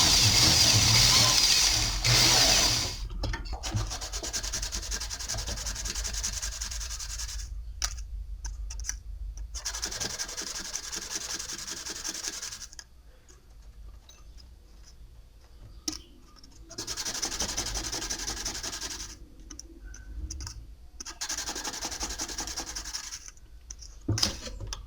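Sandpaper rubs on metal with a back-and-forth motion during jewelry making, giving a close, raspy scratching that runs in bursts separated by short pauses.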